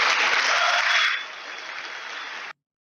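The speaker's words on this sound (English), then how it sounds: "Yep, applause" An audience applauds after a talk, a dense even burst of clapping that softens slightly partway through, then cuts off abruptly.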